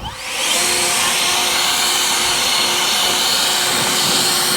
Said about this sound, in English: what I got here is an Ego leaf blower